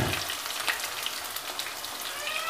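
Onion frying in a karahi while beef karahi is being made, a close, continuous hiss and crackle of hot oil with no voices over it.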